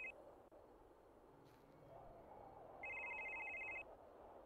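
Telephone ringing in the horror video game Psych: a faint, steady electronic ring sounds twice, a short burst at the start and a longer one about a second long, over a low ambient hum.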